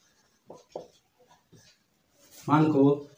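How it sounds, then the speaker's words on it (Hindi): Hand writing on a board during a Class 10 maths lesson on linear equations in two variables: a few short, scratchy strokes, followed by a voice speaking up close. "तो यहाँ पे छोटी सी भाषा लिखेंगे"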